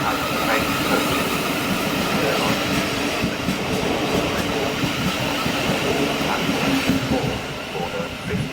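A Southeastern train with 8 coaches runs at Bromley South station, a close, steady rumble of wheels with rhythmic clatter over the rails and some faint higher squeal.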